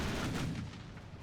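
Heavy naval guns firing from warships in the naval battle game Ultimate Admiral Dreadnoughts, a loud deep booming salvo that rumbles and fades over about a second, with no voices.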